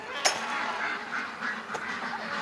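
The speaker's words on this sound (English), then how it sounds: "The ducks are freaking right out here" Agitated ducks in a pen quack repeatedly in short, overlapping bursts at moderate distance against a continuous outdoor background.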